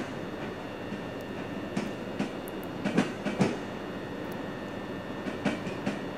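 A Class 375 electric multiple unit runs along the line in Train Sim World 3, giving a steady rolling rumble with rhythmic clicks of wheels over rail joints.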